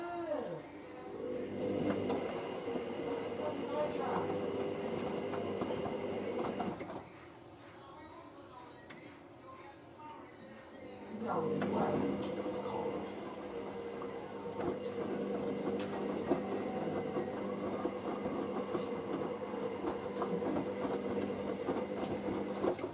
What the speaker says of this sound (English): Heating to 50 degrees Celsius now,